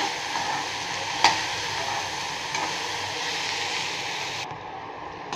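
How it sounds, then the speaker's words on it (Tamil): Okra stir-fried over low heat in an iron pan gives a steady soft sizzle throughout, with one sharp clink of a stirring spoon near the start and quieter scraping later. "நல்லா சிம்மில் வச்சு பெரட்டி பெரட்டி விடுங்க."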